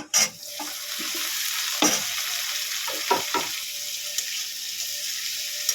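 Diced large tomato lightly frying in a pan, a steady sizzle with several sharp scraping stirs of a spatula, close and fairly loud, no talking.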